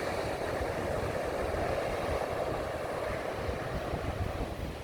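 Sea waves wash onto a beach on a windy day, a steady, dense roar of surf and wind buffeting the microphone throughout, with no voices.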